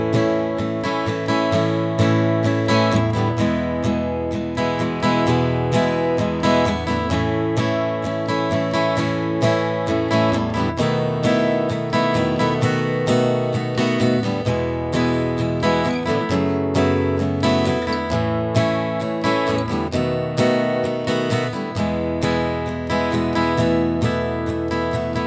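Guitar playing the chorus and reintro of a song, steady strummed chords in a continuous rhythmic pattern, close and full, with no voices.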